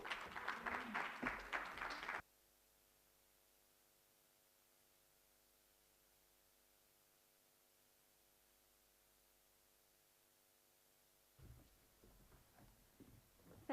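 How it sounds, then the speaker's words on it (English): Audience applause at a best practice summit in Cape Town, a short burst of clapping that cuts off into near silence with a low hum, then resumes more softly. "let's give her a round of applause"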